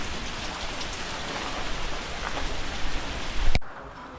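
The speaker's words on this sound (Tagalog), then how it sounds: "Naabot kami ng malakas na ulan dun na." Heavy rain pours steadily in a rural Philippine setting, a dense continuous hiss that swells slightly before cutting off abruptly near the end.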